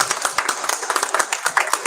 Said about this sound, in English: So a big round of applause for you.